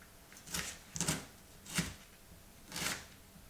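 A knife cutting asparagus on a board, four separate crisp chops spaced about a second apart, close but quiet, with no talk.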